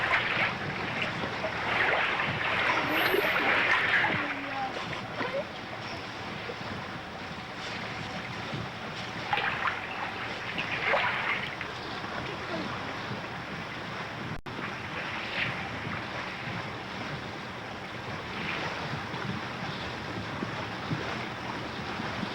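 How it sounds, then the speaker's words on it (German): A sailboat under way in sheltered Southeast Alaska waters: steady wind rush and washing water around the hull, with gusty swells rising and fading, no voices. "Das Segeln in den geschützten Gewässern von Southeast Alaska ist in den Sommermonaten, in den langen Dämmerstunden von besonderer Schönheit."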